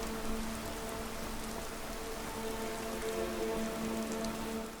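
Steady rain falls in the Skyrim video game on the road toward Whiterun, a continuous hiss of drops spread evenly throughout, with faint tonal background lines and no voices.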